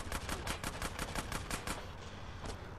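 Rapid bursts of video-game gunfire from GTA San Andreas Remastered, a steady stream of sharp close shots repeating several times a second, thinning out near the end.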